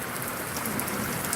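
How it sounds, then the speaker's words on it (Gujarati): Steady rain falls over a village near Bhaguda, a soft, even patter and wash with no breaks, faint and continuous throughout. "વરસાદ ચાલુ છે અમારા ગામમાં ભગુડાની બાજુમાં."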